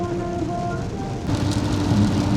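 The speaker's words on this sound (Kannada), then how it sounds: "ನೋಡಿ ಮಳೆ ಸ್ಟಾರ್ಟ್ ಆಯ್ತು ಈಗ, ಮಳೆ ಸ್ಟಾರ್ಟ್ ಆಗಿದೆ" Rain beginning to fall in Nikko, Japan: a constant broadband hiss that grows noticeably louder and denser about halfway through, heard close and with no one talking.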